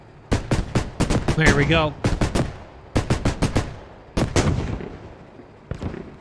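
Rapid cannon bursts from a CTAS gun and an up-armored Warrior vehicle in a night-time British mechanized assault game, loud sharp volleys in repeated clusters, with someone talking briefly over them.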